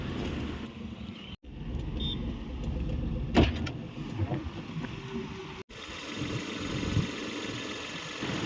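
A car engine catches after a brief starter crank and settles into a steady idle, close and continuous, with a couple of abrupt cuts in the sound.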